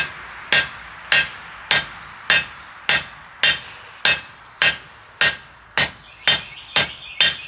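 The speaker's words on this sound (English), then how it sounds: "go to the far side of the anvil. I'm going to have it raised up off, and I'm going to strike at an angle, roll it, strike 90 degrees back and forth." A hammer striking hot steel on an anvil while forging a hook, about thirteen sharp ringing blows in an even rhythm, loud and close with a short metallic decay after each.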